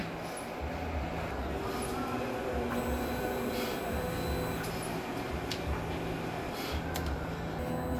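An inkjet printer runs a head cleaning cycle, giving a steady low mechanical hum with faint whirring and occasional light ticks that continues evenly from start to finish at a moderate distance.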